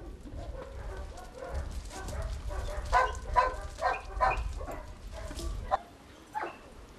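A dog barks in a series of short, sharp woofs during an outdoor training session, moderately close, with faint background noise and a few quieter yips toward the end.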